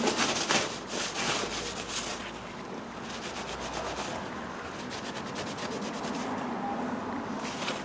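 Rubbing and wiping of a separator part from a 2013 Nissan Sentra being cleaned before lubrication, close-up continuous scrubbing with rhythmic rubbing strokes, moderate level and no talk.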